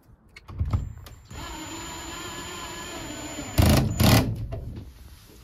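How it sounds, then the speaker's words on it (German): Screws driven in to fasten a roof window onto a van: a steady whirring power-driver hum with a thin whine, framed by a few dull knocks and two louder bursts near the end. "Und dann kommen ja schon die Schrauben und ziehen das Ganze dann"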